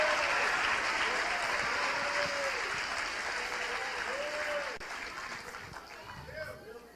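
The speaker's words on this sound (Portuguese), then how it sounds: "Se é pra aplaudir, não aplaude com essa cara, não." A large audience at a Christian preaching event applauds steadily and loudly throughout, a dense wash of clapping with occasional whistles and some crowd voices in it, tapering slightly toward the end.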